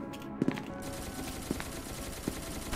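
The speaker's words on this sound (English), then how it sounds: "Oh, I hear gunshots." Gunshots in SCP Containment Breach: a quick pair of shots, then two single shots spaced apart, over a steady background hum.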